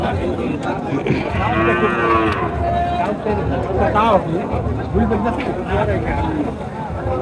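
Cows and a calf lowing now and then amid a busy outdoor crowd at a cattle market in Chowbaria, Naogaon district, Bangladesh, with people talking nearby throughout.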